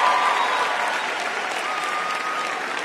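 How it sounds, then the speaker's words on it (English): Audience applause at a university commencement ceremony in a worship center: a broad, sustained wash of many people clapping, filling the room evenly and fading slightly toward the end. "Give yourselves a round of applause one more time"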